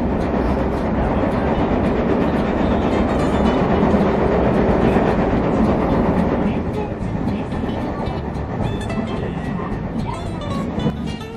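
An Osaka Loop Line train runs with a loud, continuous rumble and rolling wheel noise heard from inside the carriage, the roar easing slightly toward the end.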